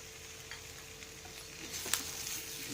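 Chopped tomato, coriander and coriander powder fry in a pan for a beans curry gravy, giving a soft continuous sizzle with scraping stirs and a sharper clink near the end.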